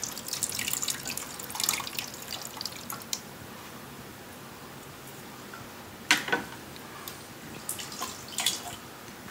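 Water is poured and splashed in short bursts during a sand spec check for a Presby AES septic system, with intermittent trickling and dripping over a quiet background hiss.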